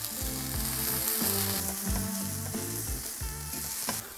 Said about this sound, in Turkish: Onları şimdi sıcak tavaya diziyoruz. Kızaran kabakları ters çevirelim.